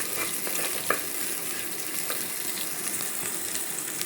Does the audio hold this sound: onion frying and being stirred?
yes